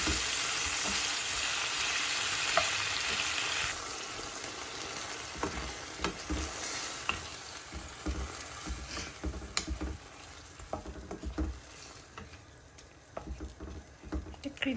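Prawns cooking in coconut milk in a pan, giving a steady loud sizzle that softens into quieter bubbling with scattered clinks and stirring scrapes, no voices.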